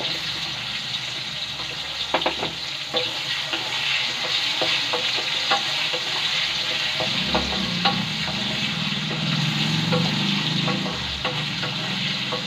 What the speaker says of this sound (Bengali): আলুটা একটু ভাজা ভাজা হয়ে যাক